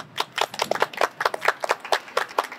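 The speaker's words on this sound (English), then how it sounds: "Give yourselves a clap." Children at a book launch clap for themselves, sharp uneven hand claps close by, irregular and slightly scattered, with no talking over them.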